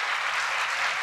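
A brief burst of hearty audience clapping at a school cultural program after a solo performance, dense and even, moderately loud with no voices over it.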